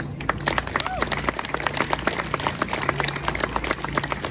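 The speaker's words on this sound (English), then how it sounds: "Let's give Scrap a round of applause." A crowd at an outdoor gathering applauds steadily, many hands clapping in a dense continuous roar with a faint voice or call briefly rising through the noise.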